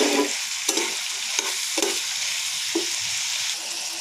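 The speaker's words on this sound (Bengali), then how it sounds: "এখন আমি কুশি আর আলু একসঙ্গে দিয়ে দিলাম, দিয়ে এখন আমি নাড়াচাড়া" Squash and potato frying together in a pan, a continuous sizzle broken by several sharp scrapes and knocks of a spoon stirring the vegetables, close by with no talk.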